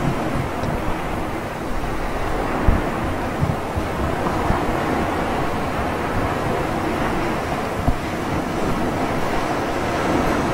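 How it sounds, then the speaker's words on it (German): Low, steady ocean rumble and wash of waves surrounds a drifting survival pod in the undersea game Subnautica, a continuous murmur with a few faint knocks and no voices. "ihr hört wahrscheinlich schon vorher das Meeresrauschen"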